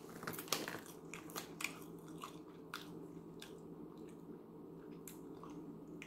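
Close, quiet chewing of Smartfood white cheddar popcorn, a string of soft bites and crunches that thin out into lighter mouth sounds, with nothing else heard.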